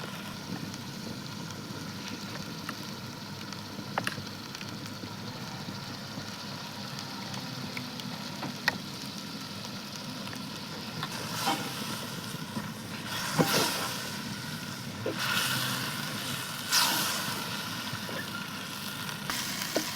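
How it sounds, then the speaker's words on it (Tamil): Mutton with ground masala sautéing in a clay pot, a steady close sizzle and crackle with occasional stirring scrapes and louder bursts near the end, no voices. "இதை அப்படியே நல்லா வதக்கிக்கோங்க மசாலா நல்லா கறியோடு சேர்ந்து பிறண்டு வரட்டும்"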